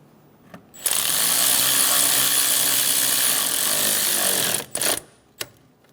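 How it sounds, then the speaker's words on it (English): A power tool runs in one loud, continuous burst of about four seconds while the master cylinder nuts are snugged down on a 2003–2007 Honda Accord, with short clicks and bumps before and after. "then get the nuts started. Snug the nuts down."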